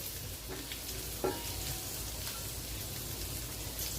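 Garlic frying in butter in a pan, a steady soft sizzle and crackle running throughout with a single brief louder tick, no voices.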